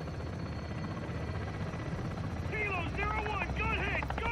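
A helicopter in Call of Duty: Modern Warfare II gives a steady, dense rotor roar throughout, with chirpy electronic game effects rising over it in the second half.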